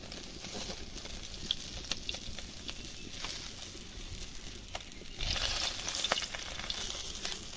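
Steady crackling sizzle of cumin and dried chillies frying in hot oil, close up, growing louder and more intense partway through, with no voices.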